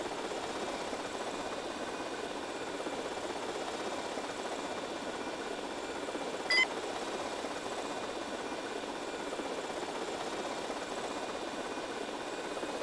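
A helicopter flies in Grand Theft Auto: Vice City, heard as a faint, steady rotor-and-engine drone that runs unbroken. A single brief click cuts through midway.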